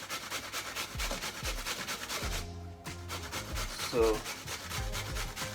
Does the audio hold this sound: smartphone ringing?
no